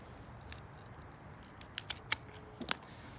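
Pruning shears snip through an elderberry stem just below a bud, giving a few sharp, close clicks and snaps clustered near the end against a quiet background.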